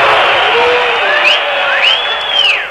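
Brazilian football supporters at the 1978 World Cup match against Italy make a loud, dense crowd roar, with rising whoops and whistles cutting above it; a voice also carries over the noise.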